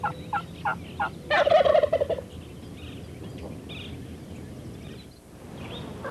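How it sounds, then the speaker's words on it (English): A few short clucks lead into a loud, rapid rolling gobble from three Rio Grande wild turkey jakes in spring, then quieter outdoor ambience with faint distant calls. "Here's 3 Jakes with full roll gobble"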